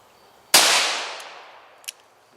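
A Smith & Wesson Model 29 .44 Magnum fires a single loud, sharp shot outdoors at a bottle, followed by a long decaying echo and a faint, brief impact sound about a second and a half later.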